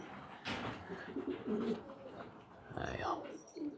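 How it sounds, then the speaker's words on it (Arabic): Domestic pigeons on a rooftop cooing in soft, low throaty bursts, two or three close calls spread across a few seconds, with faint background noise. "هاي هذا حمام الموعد"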